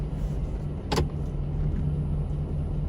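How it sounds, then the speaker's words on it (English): A snow-plowing truck in Minneapolis runs with a rough, ticking motor, a steady loud engine drone that holds throughout, broken by one sharp click partway through. "The truck don't sound too good."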